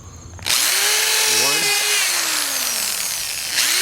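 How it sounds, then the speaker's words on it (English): A power drill driving into lumber while a raised garden bed frame is built, starting after a short pause, its loud steady whine bending down in pitch as the bit bites, then briefly surging again near the end. "Just get the drill, place your foot down on it, and drill your hole."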